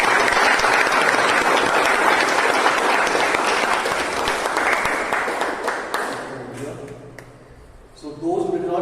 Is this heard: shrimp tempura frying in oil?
no